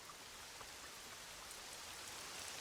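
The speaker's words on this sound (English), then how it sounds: "Got the nice rain" Steady rainfall in the video game Elden Ring Nightreign, an even hiss of drops pattering on surfaces, faint and unbroken with no voices.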